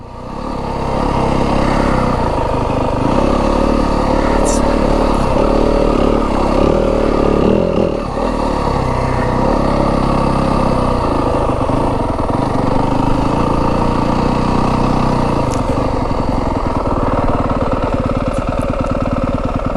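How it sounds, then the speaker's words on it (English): A Yamaha WR250F four-stroke dirt bike engine runs steadily and loudly throughout a downhill descent in rough Arizona desert terrain, its even mid-pitched drone holding nearly constant with light engine braking and no talk. "One thing nice about the 4-stroke here is the engine braking kind of keeps you going slow."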